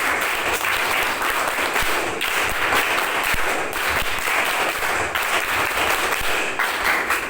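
A seminar audience at an Indonesian Islamic boarding school clapping continuously and loudly, a dense wash of many hands with no clear counted rhythm audible.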